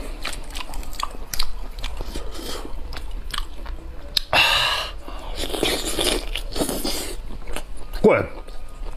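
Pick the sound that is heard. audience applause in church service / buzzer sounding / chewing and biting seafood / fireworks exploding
chewing and biting seafood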